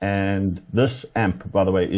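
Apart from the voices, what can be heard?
No distinct noise like a dog, phone or traffic.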